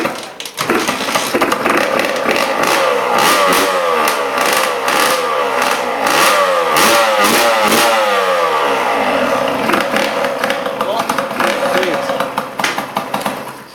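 Honda NSR 150cc two-stroke motorcycle from 1992 with a few modifications, revving loudly and close by in repeated rising and falling bursts, its engine note crackling and buzzing steadily throughout.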